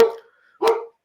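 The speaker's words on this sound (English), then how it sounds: "Sorry about my dog barking." Two loud, close barks from a house dog, probably reacting to a delivery at the door, separated by about half a second of near silence.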